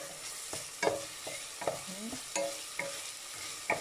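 Ground meat sautés in a pan for a dish with potatoes and carrots, giving a steady close sizzle broken by irregular scraping strokes and clacks of a spatula against the pan. No one speaks.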